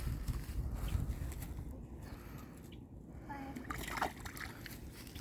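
Fish released back into lake water: a couple of short splashes and sloshes around four seconds, close and fairly faint, amid outdoor murmur and voices talking.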